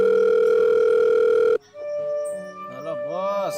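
A steady telephone dial tone sounds loud and close, then cuts off abruptly, followed by people talking.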